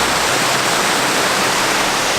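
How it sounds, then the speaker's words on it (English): Rollasons Falls on Mount Buffalo sends out a loud, constant rushing roar of falling water, with no one speaking over it. "Waterfalls just there."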